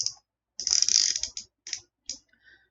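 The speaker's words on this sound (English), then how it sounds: "But hey, ratcheting." Ratcheting joints on a Power Rangers Retro Morph Ninjor action figure click through in short bursts, a dense buzzing run followed by several brief separate clicks, close and alone.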